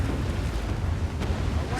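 Ship cannons firing in a naval battle in the Assassin's Creed Black Flag video game, a continuous loud rumbling barrage with a sharp blast near the end and a voice shouting over it.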